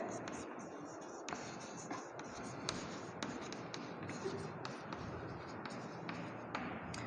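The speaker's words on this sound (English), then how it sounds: "I will write here." Chalk or marker writing on a classroom board during a science lesson, a steady scratchy scraping with short tapping strokes, close and moderately loud, with faint breathy sounds around it.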